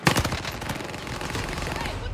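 Call of Duty Warzone gunfire on Caldera: rapid automatic bursts of crackling shots open the moment, then continue more faintly among muffled game noise.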